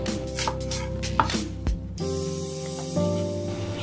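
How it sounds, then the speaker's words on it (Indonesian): A knife cuts a single red bird's eye chili in half on a board, giving a few close, distinct chops in the first seconds before a steady tonal background takes over. "Kemudian potong-potong satu cabenya"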